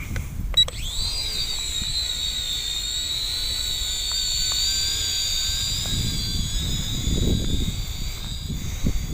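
Attop A10 quadcopter drone with altitude hold lifting off and hovering, a steady high-pitched whine of small motors and propellers that stays close and constant, with a low rumble of air buffeting underneath and no talking.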